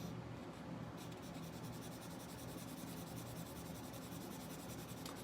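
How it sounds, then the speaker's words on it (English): A charcoal pencil scratches and rubs across paper while drawing a skull, a continuous close, soft scratching texture with light strokes throughout and no talk. "I'm going to play it around with the charcoal pencil and see how that works."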